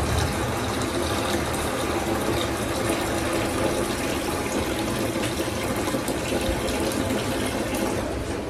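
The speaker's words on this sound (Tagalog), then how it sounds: "Maglalagay na po ako dito ng tubig." Water pouring steadily into a container to mix a salt brine for milkfish, a continuous splashing rush at even volume with no talk.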